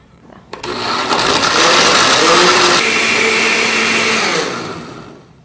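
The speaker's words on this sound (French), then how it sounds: "Mettez simplement le couvercle et on mélange le tout." A blender whirs loudly and steadily for several seconds, crushing ice with water and lemon zest, its motor rising abruptly at the start and winding down at the end.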